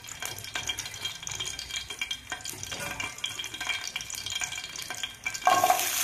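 Four green chillies fry in a pot on a gas stove for a tomato and coriander chutney, giving a steady close sizzle with scattered stirring clinks that grows louder and brighter near the end.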